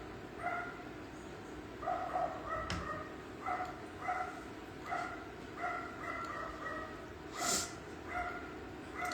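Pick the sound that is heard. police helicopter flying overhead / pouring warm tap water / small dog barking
small dog barking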